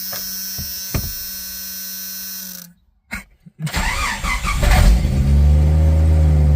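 A 1996 Jeep Cherokee engine runs close by, with a steady rumble that is cut briefly, then picks back up into louder, rising revs.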